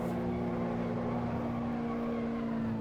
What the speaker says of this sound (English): we're getting our first drifts, a little handbrake grab there.